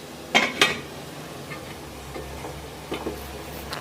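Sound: lid being placed on idli steamer plates

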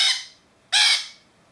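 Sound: lorikeet squawking while being handled

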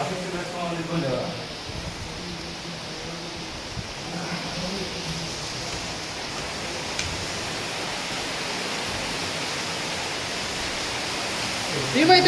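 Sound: rain falling outside hostel

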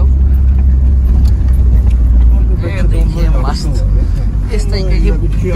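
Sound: off-road vehicle climbing a steep slope

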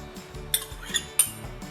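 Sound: stirring pork mixture in a bowl

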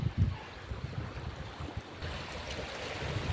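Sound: wind blowing

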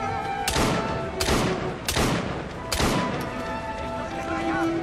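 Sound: gunfire in video game Assassin's Creed Syndicate

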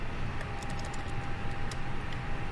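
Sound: typing fuel amount on a computer keyboard

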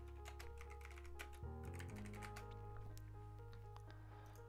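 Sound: typing a name on a computer keyboard

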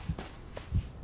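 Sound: heartbeat sound effect in the Blair Witch video game

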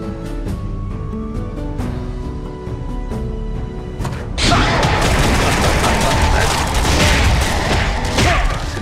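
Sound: Shadow Mage rapid fire attack in Kritika Online video game

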